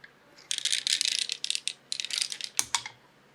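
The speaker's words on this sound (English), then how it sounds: "That was the sound of every jack coming unhinged from the hammers" A burst of dry, clicking mechanical rattles as every jack of a Wurlitzer 200 electric piano action comes unhinged from the hammers, many small parts clacking in quick irregular clusters, close and fairly quiet, ending with a sharper clack.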